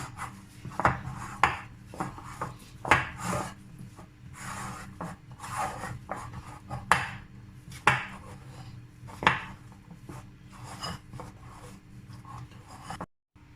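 Bread dough is worked in a bowl with repeated rubbing, scraping strokes at an irregular rhythm, close and moderate in level, ending abruptly.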